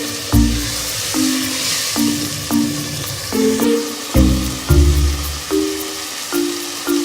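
Onion and spices sauté in a pan of oil for Pakistani aloo palak, giving a steady sizzle. Periodic stirring scrapes and clinks sound through it, and tonal background music plays underneath.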